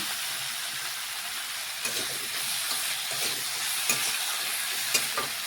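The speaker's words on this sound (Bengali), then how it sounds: "এইভাবে বেশ কিছুক্ষণ নাড়াচাড়া করে কষিয়ে নিচ্ছি মশলা" Spice masala mixed with potato and ridge gourd is stirred and fried in a pan, giving a dense continuous sizzle with repeated scraping strokes of a spatula, close and fairly loud, no talk.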